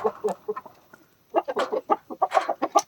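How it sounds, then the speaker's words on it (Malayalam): Three roosters and hens cluck nearby in short, uneven bursts of sharp calls, with a brief pause before a busier cluster of clucks, all close and fairly clear. "3 പൂവൻ കോഴി ഉണ്ട്."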